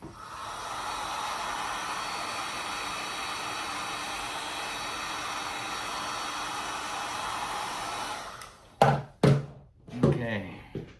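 A heat gun blows hot air onto the bumper of a Babolat tennis racquet during grommet replacement, a steady broad hiss for about eight seconds before cutting off, followed by a few sharp handling knocks and brief voices.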